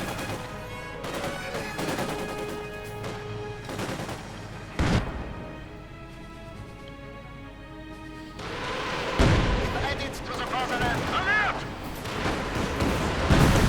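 Rocket fire and explosive impacts in the Company of Heroes 2 strategy game, with repeated booming blasts and gunfire over a tonal game soundtrack, a heavy barrage building toward the end.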